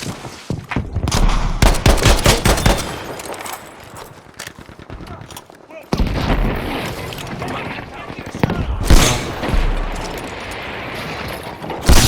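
Gunfire and grenade blasts in the Battlefield 5 video game, with loud bursts of shots and heavy booms in two waves, broken by a short lull, with voices calling out over the combat.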